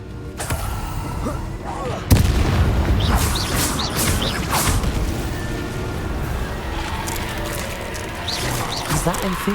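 In the Hogwarts Legacy video game, the Confringo explosive spell goes off as a sudden heavy boom about two seconds in, followed by rumbling battle effects and whooshing spell sounds while a voice talks over them.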